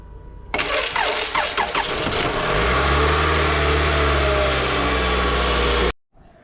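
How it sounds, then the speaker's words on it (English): A 2006 Toyota Camry cranks with a quick rhythmic whir for about two seconds, then catches and settles into a steady, close idle before cutting off abruptly. "So when I hit the starter, the vehicle started up."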